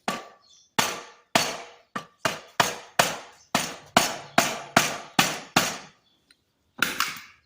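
Repeated hammer blows on 2003 Suzuki RM85 dirt bike engine parts during a bottom-end rebuild, a fast rhythmic series of about a dozen loud, close metallic whacks, a short pause, then one more strike.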